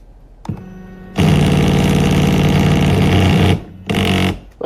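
Old Printrbot 3D printer with its stepper motor driving an axis into its end stop, a loud harsh buzzing grind lasting over two seconds, then a brief pause and a shorter second burst, close up.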